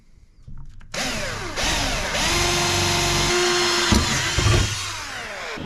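A power tool bites into pot metal, starting after a brief quiet moment with short rising bursts of motor whine, then settling into a loud, sustained grinding drone with harsh rasping cutting noise on top.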